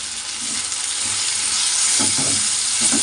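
Tomatoes and onions sauté with salt in a pan, giving a steady close sizzle, with a few soft stirring scrapes toward the end.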